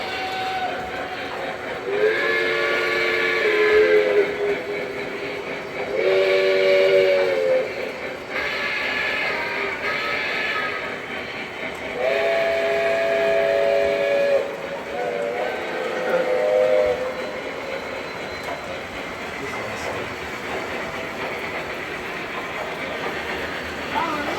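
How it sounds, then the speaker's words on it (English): Repeated model train whistles sound in short two-tone blasts, about four of them, over a steady rolling rumble, loud and close. "That one got multiple whistles too."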